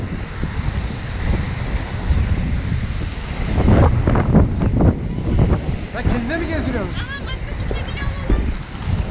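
Heavy wind buffeting the microphone in a continuous roar while riding a rented scooter, with voices talking intermittently underneath.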